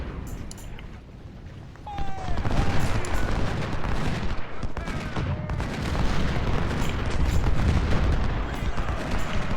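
Cannon and artillery fire in the Ultimate General: Civil War game, a dense continuous barrage of booms and crackling gunfire rumbling steadily throughout, with occasional speech over the battle noise.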